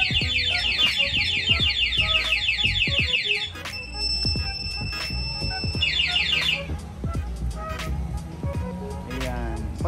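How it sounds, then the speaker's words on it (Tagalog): A motorcycle anti-theft alarm on a Sniper 155 blares loudly in rapid warbling beeps, switches to a steady tone, then cycles through more siren-like patterns nearby. "Okay, mag-a-alarm pa."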